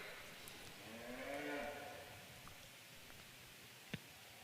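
A single low, drawn-out moo from cattle at a 4-H showmanship ring rises and fades in a quiet arena, followed by faint rustling and a brief knock.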